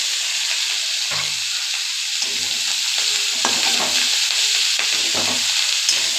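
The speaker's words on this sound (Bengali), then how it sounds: "এবার শাকগুলো দিয়ে দিচ্ছি।" Leafy greens fry in a pan with fried egg and a little turmeric, a steady close sizzle and hiss broken by the scrape and clatter of stirring.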